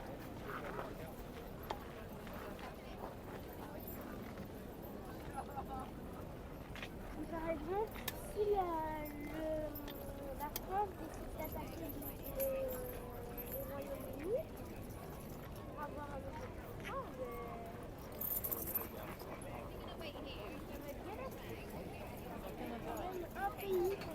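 Horse Guard horses clip-clop at a slow walk amid an outdoor crowd, the hoof beats faint and intermittent beneath steady chatter, with children's voices and close talking throughout.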